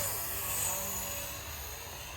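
A Blade 230s Smart v2 RC helicopter drifts in a semi-hover, giving a steady whining buzz of rotor and motor, fairly close and continuous throughout, with no voices.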